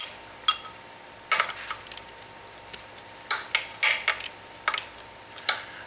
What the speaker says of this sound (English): I'm going to break the jam nut loose